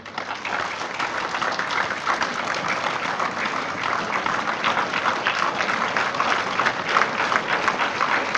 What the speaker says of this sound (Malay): sama-sama kita memberikan tepukan yang paling gemuruh buat mereka